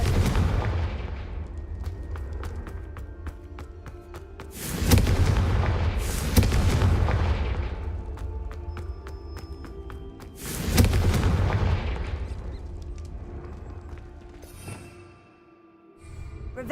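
Confringo fire-spell blasts in Hogwarts Legacy on PC: two loud booming explosions several seconds apart, each with a rumbling tail, over a continuous low game soundscape.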